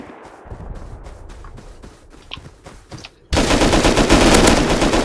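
Video game gunfire rattles in rapid bursts of automatic shots, sparse at first and then a sudden loud, sustained barrage close by.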